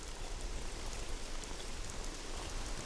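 Rain falls steadily on Jirisan mountain, a dense, even hiss of drops that holds constant and moderately loud throughout, with no voices.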